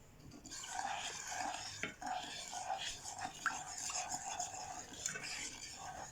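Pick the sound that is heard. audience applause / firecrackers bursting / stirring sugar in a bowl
stirring sugar in a bowl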